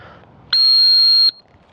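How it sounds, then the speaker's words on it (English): A single sharp, steady dog training whistle blast rings out close and loud for under a second, used to stop a retriever on a blind retrieve during a T drill. "you get a quick whistle"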